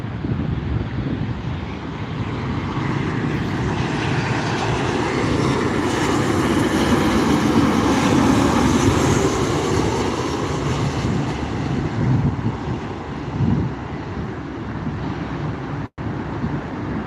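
Southwest Airlines passenger jet in Canyon Blue livery passing at night during plane spotting at an airport, a loud sustained engine roar that swells toward the middle and slowly eases, with wind noise on the microphone.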